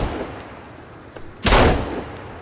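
A single loud handgun shot in the survival video game Sons of the Forest, a sharp broadband crack with a short decaying tail over low ambient game noise, no talk.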